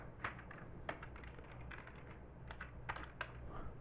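Typing on a computer keyboard: quiet, steady, irregular key clicks with a few slightly louder taps, heard close up with no speech.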